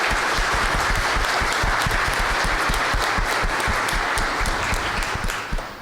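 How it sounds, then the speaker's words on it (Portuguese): Dense, sustained applause from an audience at a Portuguese-language talk, cheering four people; steady clapping fills the whole stretch, loud and unbroken, fading slightly at the end, with no talk over it. "Então eu quero uma salva de palmas"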